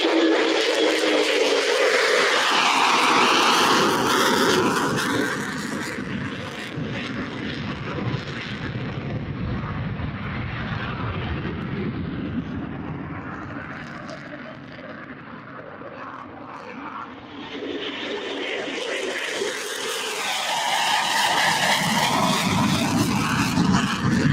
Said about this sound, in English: here's the afterburner.